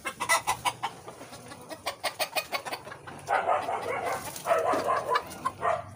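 Chickens in a backyard flock cluck in short bursts close by, with a run of sharp rhythmic clucks followed by louder drawn-out calls. A dog also barks at times.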